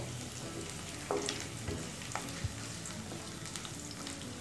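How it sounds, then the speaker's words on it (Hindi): Roughly chopped onion fries in hot oil with a soft, steady sizzle, broken by a few quiet scrapes and taps from stirring. No one speaks. "तेल हमारा गर्म हो चुका है तो मैं इसमें डालूंगी प्याज"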